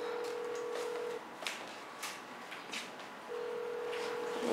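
A telephone rings in an indoor scene from a Sri Lankan TV drama, a steady electronic tone sounding at the start and again near the end, with faint background noises in between.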